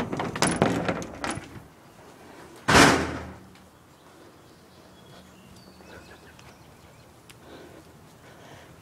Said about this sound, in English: Opening the door outside.